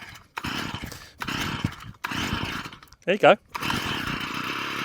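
A two-stroke strimmer engine on a line trimmer, primed and choked, cranks in rough bursts and sputters between pauses, loud and close, with someone speaking briefly.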